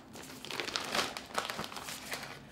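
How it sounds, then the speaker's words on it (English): Small plastic bag holding Saplies golf grips bought off Amazon, crinkled close up: a few quick bursts of crisp rustling and crackling, fairly quiet, with brief pauses between handlings. "These are, they come in their own little plastic bag."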